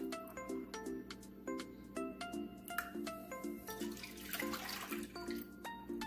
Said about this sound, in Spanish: voy a colocar primero 2 tazas de leche